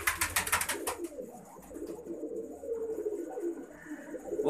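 Pigeons in a loft, among them a Ferozpuri breed perched on a box, coo steadily and softly up close, with a few wing flutters at the start and no voices.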